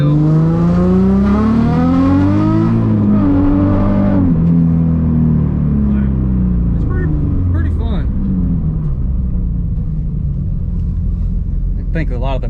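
A Nissan 350Z with a swapped VQ35HR engine and old, dry-rotted tires revs hard, its rising and falling engine tone loud and close, with wheel spin under the engine noise before it settles into a lower rumble.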